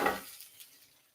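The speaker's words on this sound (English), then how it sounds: "So onions are still sizzling." Onions frying in a hot pan give a brief burst of sizzle that fades quickly into a soft, faint crackle, with no talking.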